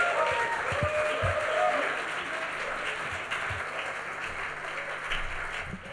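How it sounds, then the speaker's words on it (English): Audience applause at a bass guitar clinic at the London Bass Guitar Show, a sustained round of clapping from a crowd in a hall, steady and moderately loud, fading slightly toward the end. "So without further ado, please give your best round of applause to Mr. Janek Gwizdala."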